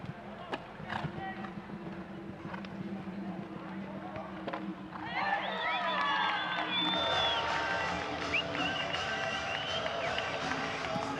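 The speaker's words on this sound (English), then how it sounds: "a well-earned round of applause for Ivana Ganda Robinson-Boer" A crowd at a CSI2* 1.45 m show-jumping event at La Querencia breaks into loud, sustained applause and cheering for a rider, swelling abruptly midway after quieter murmuring.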